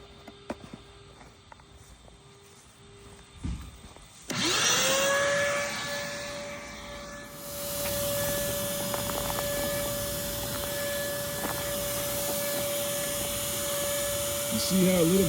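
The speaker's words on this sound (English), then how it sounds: "So we've got power now in the front yard vac. So we're gonna go ahead and start collecting here on this nest." A yard vacuum starts up with a sudden loud whine and keeps a steady tonal drone as it sucks yellowjackets out of a ground nest in a front yard, with faint footsteps and rustling underneath.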